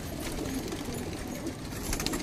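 Kashni and chandni pigeons coo softly nearby in a pigeon loft, low murmuring calls over a light background hum.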